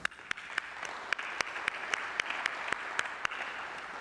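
Faint, sparse applause from an audience at a Fair Housing Symposium in the Morton Meyerson Symphony Center, Dallas: a few distinct claps ring out at irregular intervals over a quiet, hissy room.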